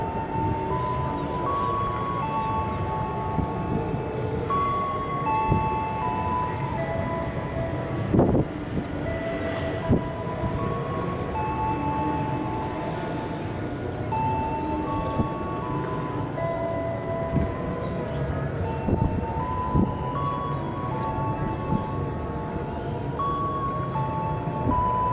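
KRL electric commuter train rolling past the Cibitung railway level crossing, a long steady rumble of wheels on track with repeated rhythmic clacks, the crossing's warning bell tones ringing throughout.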